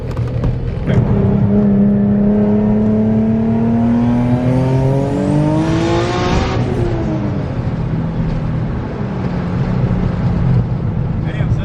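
A turbocharged Nissan 350Z pulls hard in second gear, the engine note climbing loud and close over several seconds before easing off, with a steady drone underneath and no talk audible.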